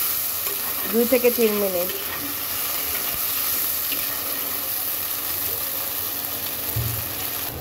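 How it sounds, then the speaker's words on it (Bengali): Spices and tengra fish with yard-long beans sizzle steadily in a pan, a constant frying hiss with stirring scrapes, while someone speaks briefly in Bengali over it. "সব কিছু সুন্দর করে ভেজে নেব"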